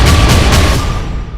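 A single heavy boom from artillery or tank fire during an Israeli attack rolls out close and loud, then decays over about a second.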